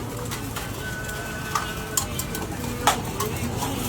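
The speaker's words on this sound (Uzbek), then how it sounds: "Chiroyli kaptarlar ekan. Mana kaptarlar qarang." Pigeons coo softly at a bird market amid steady crowd and background noise, with a few brief sharper calls and flutters in the mix.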